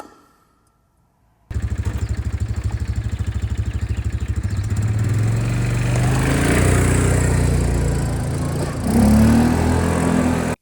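After a second of near silence, an old ATV engine starts up loud and close, revving steadily higher as it accelerates on a test drive, with a brief dip and surge near the end.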